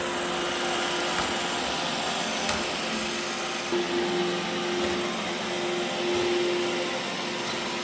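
An iRobot Roomba i7+ robot vacuum runs across the floor with a steady whirring hum and brushing rumble, close and continuous, with a slight shift in pitch partway through.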